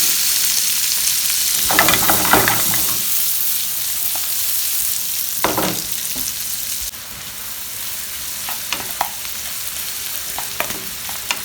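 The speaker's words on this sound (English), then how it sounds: "fry in the onions, the 3 onions which we have chopped fine" Three finely chopped onions fry in a pan of oil and butter, giving a steady loud sizzle with intermittent stirring scrapes and clatters, close and alone.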